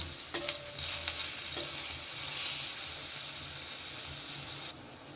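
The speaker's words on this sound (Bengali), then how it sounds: "বেগুনগুলো ভালো করে আমি উল্টে পাল্টে একটু ভেজে নেব" Eggplant pieces frying in hot oil in a pan over high flame, a loud, continuous sizzle with a few sharp stirring clinks near the start and a drop in level at the end.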